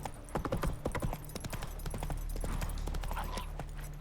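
Roach gallops in The Witcher 3, her hooves clip-clopping in quick, close, sharp beats at first. They thin out over a low rumble toward the end.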